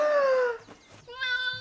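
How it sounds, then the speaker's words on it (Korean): A cat meows twice, close and clear, with a drawn-out falling cry followed after a short pause by a second, higher meow, and no voices around it. "고양이는 돌아오지 않았는데 아침이 돼서야 돌아온 판도라"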